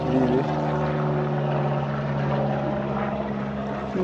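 A propeller aircraft drones overhead in Africa with a steady, moderately loud hum and low throb that holds evenly throughout, no talk over it.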